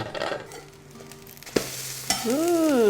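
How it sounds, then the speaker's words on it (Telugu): A tempering of sesame oil, mustard seeds, cumin, two dried red chillies, curry leaves and asafoetida sizzles in a pan, a close crackle broken by a couple of sharp utensil knocks and a squeaky scrape as it is stirred. "కొంచెం నువ్వుల నూనె, కొంచెం ఆవాలు, కొంచెం జీలకర్ర, ఒక 2 ఎండుమిరపకాయలు, కొంచెం కరివేపాకు, కొంచెం ఇంగువ తాలింపు వేసేస్తున్నాను"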